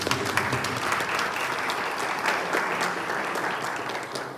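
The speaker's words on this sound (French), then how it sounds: "Alors, vous pouvez les applaudir maintenant un petit peu." Church congregation applauding at the close of a parish Mass, steady, dense clapping that fills the whole space from start to finish, fairly close and without any talk over it.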